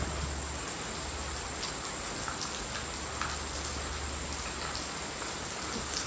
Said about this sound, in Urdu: بارش کی وجہ سے موسم ادھر کافی ٹھنڈا ہو گیا ہے.